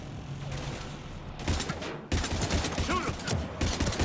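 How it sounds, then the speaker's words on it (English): Gunfire in the video game Mass Effect 3, a combat firefight with husks: dense bursts of shots crackle loud and close across the clip, with a brief lull early and heavier volleys in the second half. "we're taking heavy fire"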